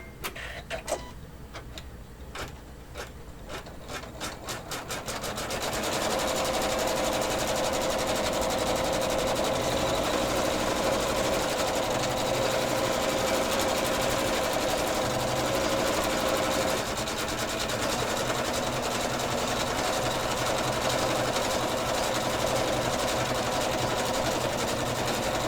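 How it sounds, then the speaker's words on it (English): An embroidery machine stitches a zigzag edge around quilt applique, its rapid, steady mechanical whir starting with faint ticking taps and then running loud and continuous at close range, with no talking. "now I'm just going to finish it up with the zigzag stitch"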